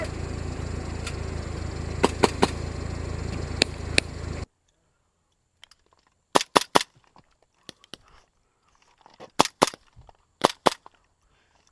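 Gunfire in a staged police chase scene: sharp cracking pops, a few scattered over a steady background rumble, then clustered bursts of shots against near silence.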